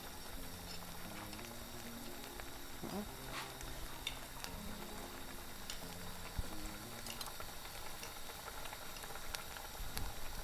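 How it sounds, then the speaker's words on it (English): A pot of chicken stew with Scotch bonnet and red and green peppers and thyme simmers with a steady low bubbling and faint popping, constant and fairly quiet throughout. "Now we're going to leave it for about 15 minutes to simmer"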